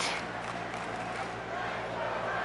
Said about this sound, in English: the fans are cheering for Roxanne over Sing